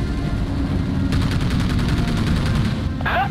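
Rapid anti-aircraft gunfire against an enemy plane in the World War II naval game Battlestations Pacific, a steady chattering burst over a low rumbling battle drone, ending in a brief sharper hit.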